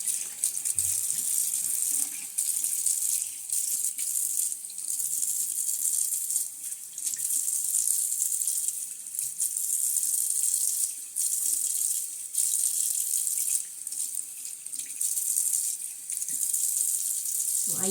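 Tap water runs steadily into a sink during a face wash at home, a continuous close hiss with brief dips as hands move under the stream, no voices.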